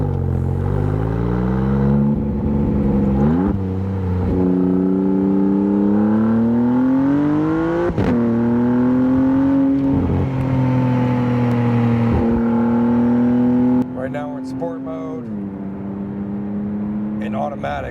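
A 620-horsepower Maserati MC20 engine droning steadily while driving, rising and settling in pitch through gear changes, loud and close from the cabin with a few clunks and a quieter stretch near the end.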